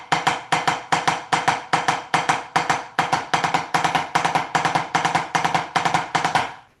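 A snare drum played as an exercise of double strokes in triplet groupings with duple figures in between: steady, crisp, rapid strokes in even pulses, loud and close, with no talking.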